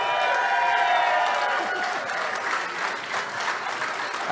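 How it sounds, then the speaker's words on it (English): Sustained crowd applause with some cheering at a Kentucky primary election night speech, loud and continuous, with indistinct voices blending into the clapping. "She's clapping, too."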